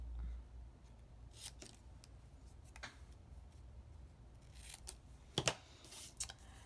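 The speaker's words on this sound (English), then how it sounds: "And then I cut the black piece of paper underneath it" Scissors snipping black paper to make a mat for a greeting card sentiment: quiet, sharp cuts scattered through the stretch, with a cluster of louder snips near the end and no talking.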